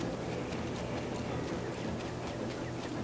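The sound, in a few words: horse hooves clip-clopping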